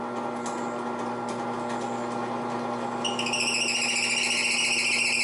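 A drill bores small holes into a workbench, giving a steady motor hum. Partway through, a higher, whining pitch rises as the bit bites into the material.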